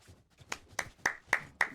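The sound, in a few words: audience clapping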